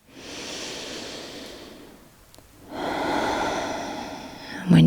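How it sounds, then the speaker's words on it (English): Slow, audible breaths drawn in and let out during a Hatha yoga arm stretch, close and soft, with a brief quiet pause between them and a sharper breath at the end. "listen to the sound of your breath here"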